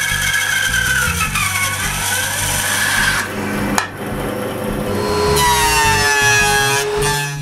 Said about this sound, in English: I begin by ripping in half a 4/4 piece of maple.